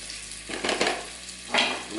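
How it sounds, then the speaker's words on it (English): Smoked turkey sausage fries in a pan, making a soft sizzle with two short bursts of louder spattering and stirring scrapes, close and brief, with no one talking. "We're gonna cook these down first because we also wanna start getting some of that flavor from the turkey sausage into our pan"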